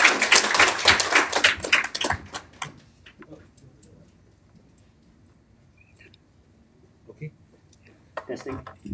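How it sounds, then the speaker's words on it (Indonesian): Church congregation clapping hands together, a dense burst of loud claps for the first two seconds that quickly thins to scattered taps and near silence, with a few faint claps returning at the end. "Mari kita tepuk tangan."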